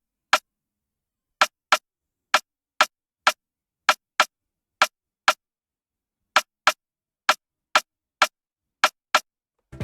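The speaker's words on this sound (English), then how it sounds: "Yeah, that's how my snare sound like." A crisp snare drum hits in a steady, busy pattern, bright and fairly loud, with a short pause midway and no talking.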